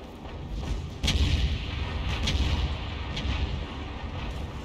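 Artillery fire from the S-51 self-propelled gun in World of Tanks, booming in three heavy shots spaced about a second apart over a steady rumble of battle ambience.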